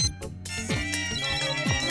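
A mobile phone ringtone plays a bright, repeating electronic melody, steady and fairly loud for a couple of seconds with no voices over it.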